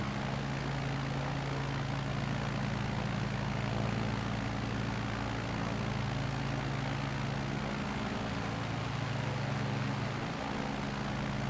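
Steady, continuous drone of a light aircraft's engine and propeller in flight at high altitude over the Nevada backcountry, loud and unbroken from start to finish with no talk over it.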